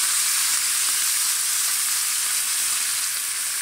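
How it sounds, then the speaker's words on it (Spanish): Cardoon stalks fry in a pan with chorizo, giving a steady, loud, close hiss and crackle of sizzling oil that holds without a break. "voy a echar mis pencas para que tomen el saborcito"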